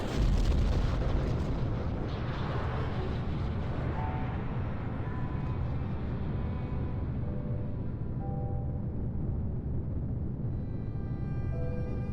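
A large multi-stage rocket launches in Kerbal Space Program, a loud continuous engine roar that stays steady throughout, heavy and rumbling.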